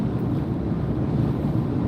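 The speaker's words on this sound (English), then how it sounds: "I think it's windy out there. I can hear it as I'm driving." Wind outside a moving vehicle makes a steady, loud low rumble and roar that fills the whole stretch without pause and without speech.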